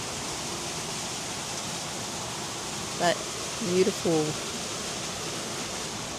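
A jungle waterfall in Ubud, Bali: a broad, steady rushing hiss of falling water fills the whole stretch at an even level, with brief spoken words from people nearby partway through.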